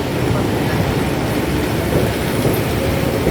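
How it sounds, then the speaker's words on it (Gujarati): A goods train passes close by at Vadodara railway station, giving a continuous heavy, loud rolling roar with no break. "આ માલગાડી જઈ રહી છે, રેલગાડી."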